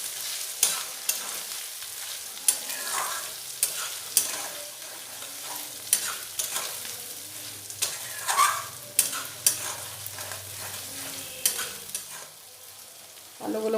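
Potatoes stir-fried with cumin, coriander and chili powder for a vegetarian chana masala, with repeated sharp spatula scrapes and clinks against the pan in an irregular rhythm over a soft, close sizzle.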